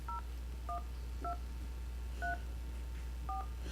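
Touch-tone dial pad beeps, five short dual-tone pulses spaced unevenly over about four seconds, each clear and alone above a steady low hum.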